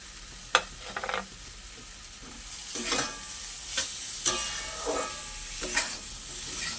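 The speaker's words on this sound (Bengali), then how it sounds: "চিনিটা সুজির সঙ্গে খুব ভালো করে আমি মিশিয়ে নেব।" Spoon scraping through semolina halwa in a pan as sugar is mixed in, a series of soft scrapes and gentle sizzling bursts repeating every second or so, close and moderately quiet, with no talking.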